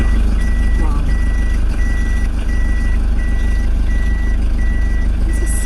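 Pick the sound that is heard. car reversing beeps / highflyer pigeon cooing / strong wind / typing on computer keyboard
car reversing beeps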